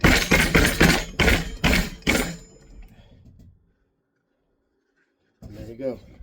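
A metal rivet is stamped down on a small leather pocket knife sheath with about six sharp, close, rhythmic strikes, after which the sound fades to silence before a voice begins talking.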